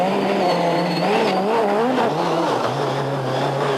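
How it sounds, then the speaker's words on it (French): A 1999 Peugeot 206 WRC rally car driven hard, its engine revving up and down through the gears with tyre squeal, loud and close, the pitch climbing and dropping in quick waves. "le moteur ne demande qu'à s'exprimer et l'auto semble dotée d'un bon équilibre"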